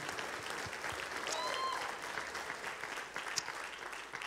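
A church congregation claps hands in a sustained, steady round of applause, moderately loud and even, with a few voices faintly mixed in.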